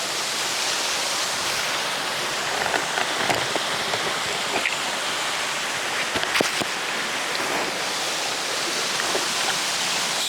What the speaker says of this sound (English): We've got waterfall, we've got a good sized stream